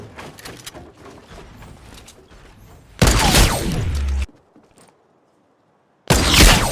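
Sharp sniper rifle shots in Fortnite Battle Royale, each a loud burst with a ringing tail, separated by a near-silent gap, with quieter ambient game noise at the start.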